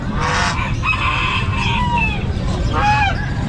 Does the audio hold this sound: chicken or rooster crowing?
yes